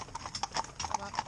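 Horses, a stallion and two geldings working in tandem, walking on a hard surface, their hooves striking in a quick, uneven clip-clop rhythm, close and clear, with a voice faintly underneath.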